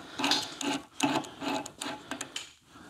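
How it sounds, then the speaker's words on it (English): Allen wrenches tighten fasteners on a lathe tailstock spinner in a workshop, making a close run of short scraping and clicking strokes in an uneven rhythm. "I'm using my nice Silke Allen wrenches."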